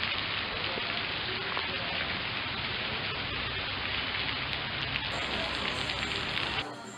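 Steady, dense rain pours down at a Buddhist temple in Colombo, Sri Lanka, a loud unbroken hiss with no voices.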